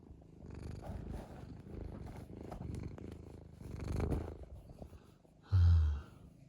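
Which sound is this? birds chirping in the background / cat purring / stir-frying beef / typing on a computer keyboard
cat purring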